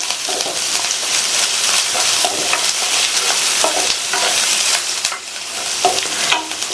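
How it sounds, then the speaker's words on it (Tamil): Sliced onion and curry leaves sizzle loudly in hot oil, with a constant bright frying hiss and occasional spatula scrapes and stirs close up, and no talking. "இந்த வெங்காயம் நல்ல கலர் மாதிரி வர அளவுக்கு வதக்கிக்கங்க"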